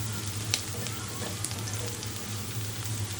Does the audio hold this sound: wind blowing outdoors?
no